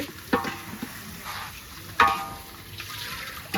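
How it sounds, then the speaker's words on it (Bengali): Khichuri in a cooking pot is stirred with a low bubbling sizzle, and two sharper scrapes of the spoon against the pot stand out during an otherwise quiet stretch. "লাড়া দিতেছে"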